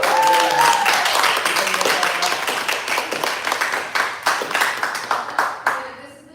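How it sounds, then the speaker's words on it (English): An audience claps in a lively burst at a society showcase, the applause thinning into scattered, separate claps before fading out, with a little talk heard early on. "round of applause."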